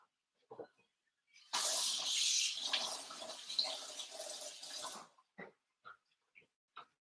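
Water runs from a kitchen tap for about three and a half seconds as something is rinsed off under it, a steady broadband rush, followed by a few faint clicks and clunks of handling.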